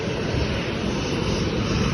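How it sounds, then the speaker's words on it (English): Airplane engines run on an airport runway ahead of a flight to Prague, a loud, steady, broadband roar that fills the whole stretch with no voices over it. "We're on the runway. About to board the plane to Prague."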